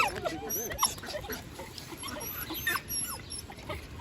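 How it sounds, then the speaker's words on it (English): Several excited puppies outdoors yip, bark and whimper in quick overlapping bursts at close to medium distance, with a person talking intermittently among them. "Millie, can you hear the puppies going mental?"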